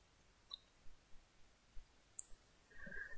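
A few faint, sharp computer mouse clicks on an edit button, spaced out and isolated against quiet, with a soft burst of keyboard or mouse activity at the end.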